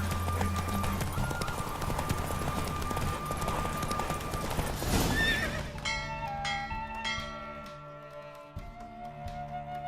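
In a horse race in the video game The Witcher 3, rapid hoofbeats gallop under a loud rushing blur of noise, then give way to neighing and a few ringing tones as the pace eases.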